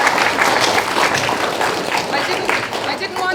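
An audience at a school leaders' debate gives a round of applause for fifth-year students, steady dense clapping for a few seconds under some background voices.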